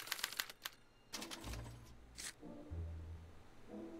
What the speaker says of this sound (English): they're relayed to this special typewriter, which prints out a punch card that represents the subject's mind map.